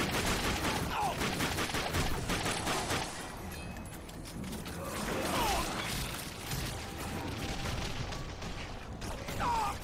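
Gunfire from the video game Darkness 2 crackles in dense bursts of rapid shots, loud and close, with mechanical clatter between volleys that ease off midway before picking up again.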